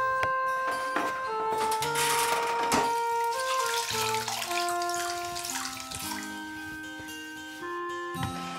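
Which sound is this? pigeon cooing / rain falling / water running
water running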